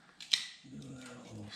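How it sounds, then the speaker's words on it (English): A single small snip with cutters while repairing a Cub Cadet 1864 lawn tractor fuel system, a quick close click followed by a low voice talking. "Do that little snip."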